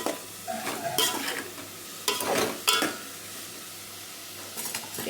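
Washed mushrooms go into a hot pan for a Goa-style mushroom curry and are stirred, bringing bursts of spatula scraping and clattering against the pan over a steady sizzle, with no voices.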